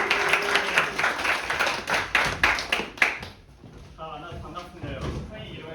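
Students in a classroom clap to welcome a student teacher, a burst of sharp, fairly close claps that stops after about three seconds, followed by a voice speaking.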